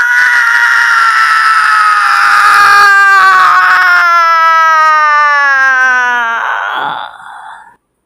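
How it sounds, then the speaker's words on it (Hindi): Long, loud, shrill wailing scream of the demoness Putana as she falls to the ground, sustained and wavering before sliding lower and fading into a brief groan, with nothing else beneath it. "राक्षसी पूतना एक चीख के साथ धरती पर गिर पड़ी।"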